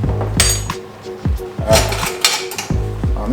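A spoon stirs black pepper into a pot of Jamaican red bean soup, giving repeated clinks and scrapes against the pot in an uneven rhythm, close and fairly loud.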